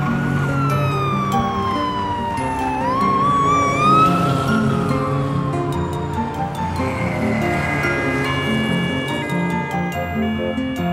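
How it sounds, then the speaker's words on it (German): A wailing police car siren from a children's cartoon about toy vehicles rises and falls over steady music with ticking sounds, loud and close throughout. "Das Polizeiauto."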